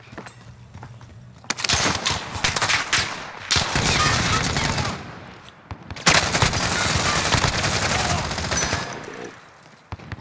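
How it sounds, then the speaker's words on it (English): Bursts of automatic gunfire from Call of Duty: Modern Warfare rattle in dense volleys with brief pauses between, loud and close, with faint voices now and then. "I'm taking fire."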